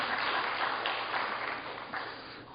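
Congregation applauding during a church Sunday worship service, a steady burst of clapping from many people that holds for a couple of seconds and then fades slightly, with no talking over it.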